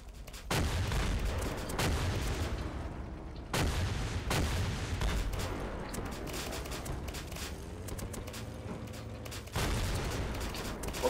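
Explosive gunfire and booming blasts in the PolySquad video game, with several heavy bursts separated by quieter rumbling stretches, all fairly distant-sounding and without voices.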